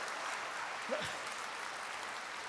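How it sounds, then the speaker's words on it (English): Audience applause at a horse trainer showdown event, a steady, fairly faint wash of clapping with a brief voice over it. "Can you guys give him a round of applause?"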